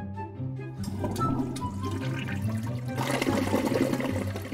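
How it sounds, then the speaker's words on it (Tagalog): A toilet flushes in the Roblox video game, a loud close gush of rushing water that churns and refills for several seconds, with no talking over it. "Ayan, flush natin."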